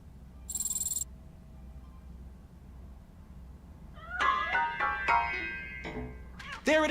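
A cat meowing in the video game Robocop Rogue City, with several close, clear mews in a loose cluster near the end and a brief electronic chime or tone earlier, set against a quiet game ambience.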